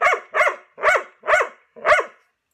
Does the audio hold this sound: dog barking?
yes